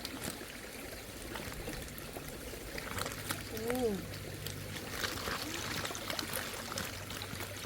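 Water flows steadily through a stream channel during a fish-catching outing in rural Thailand, a soft continuous trickling rush heard fairly faint and distant, with a few quiet, indistinct sounds above it.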